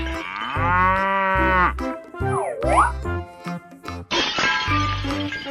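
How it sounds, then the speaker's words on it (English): A cow in an animal video game lets out a long, loud moo over cheerful, bouncy game music and chiming effects. "Cow."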